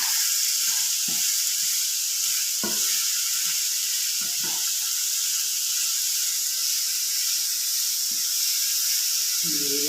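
Grated papaya thoran with salt stirred in a hot pan, a constant loud sizzle with occasional soft spatula scrapes and taps scattered across it.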